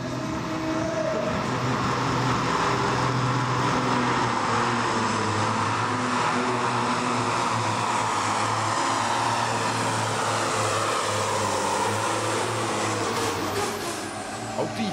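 The Red Impact pulling tractor in the 4500 kg Supersport class roars through a full pull at an indoor arena, a loud, continuous engine howl sustained at a steady pitch for the whole stretch.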